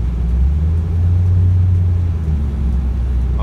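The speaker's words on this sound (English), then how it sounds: "All these cars sound so good." Steady low engine rumble from cars, a continuous deep drone with no talking, fairly loud and close throughout.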